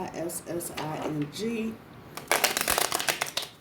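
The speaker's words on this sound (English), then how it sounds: "Something's just telling me to shuffle these again. So that is what I'm doing." After someone speaks briefly, tarot cards riffle and slap together in a quick, crisp shuffle close by.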